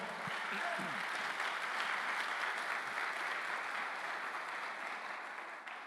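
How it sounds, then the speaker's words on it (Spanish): Sustained congregational applause in a church service, a dense steady clapping from many people that carries on throughout and tapers slightly near the end. "Dale un aplauso al Señor"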